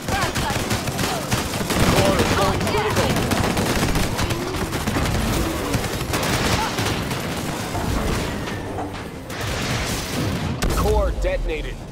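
Sustained crossfire in the shooter Disintegration, with dense overlapping gunshots and bursts running almost the whole time, loud and continuous, while voices talk underneath.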